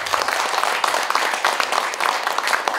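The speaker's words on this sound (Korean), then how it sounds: "박수 한번 보내주시죠." An audience at a Korean arts and culture awards ceremony applauds the award winners, a dense, steady wash of many hands clapping at close range with no talk over it.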